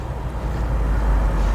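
Deep, steady rumble of a BMW M850i xDrive V8 slowing at low speed, droning heavily in the bass with a slight swell, with no talking.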